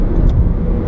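A 2015 Scion FR-S sports car drives along, its engine giving a loud, steady low drone from inside the cabin, with a deep rumble holding even throughout.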